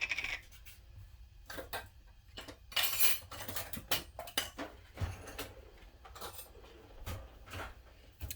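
A metal spoon scrapes and clinks as it scoops corn starch into a measuring cup, a run of sharp irregular taps and rattles close by, some louder than others, with no talking.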